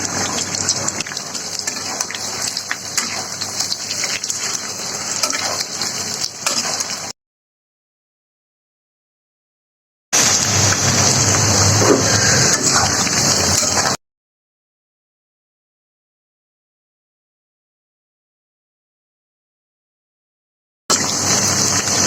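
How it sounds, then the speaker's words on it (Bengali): Chicken marinated in egg, cornflour, cumin and coriander powder sizzles steadily in hot oil, a loud, close, continuous hiss and crackle broken by two stretches of silence. "এখন আমি এটা একটু তেলে ভেজে নিব।"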